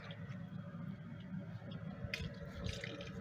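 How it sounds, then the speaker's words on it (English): Water pours into an aquarium during preparation, a faint steady trickle and splash from the fill with a few brighter drips near the end. "I'm filling it up with water"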